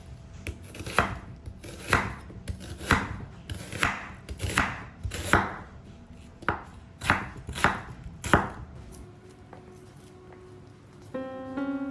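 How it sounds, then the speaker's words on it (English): A knife slicing half a white onion on a cutting board, about ten firm, evenly spaced chops close up, then the cutting stops and a faint tone rises near the end. "Cut half white onion,"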